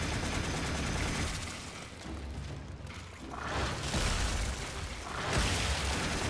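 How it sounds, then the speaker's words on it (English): Rapid gunfire in the sci-fi shooter Warframe during a fight, dense bursts of shots and booming impacts that swell and ease over several seconds, loud and continuous with no talk. "Now let's just shoot."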